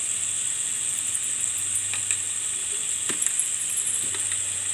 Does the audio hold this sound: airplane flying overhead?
no